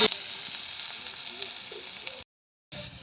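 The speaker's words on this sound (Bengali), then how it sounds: "কড়াইতে তেল বসিয়ে জিরে ফোড়ন দিলাম পেঁয়াজটা" Onion sizzling steadily in hot oil with cumin in a wok, a dense continuous crackle that briefly cuts to silence before resuming.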